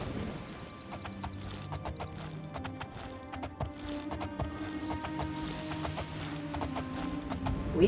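Horse hooves clip-clop steadily at a riding pace in the Oblivion video game, a regular rhythmic patter of sharp knocks over low ambient game music, with no one talking.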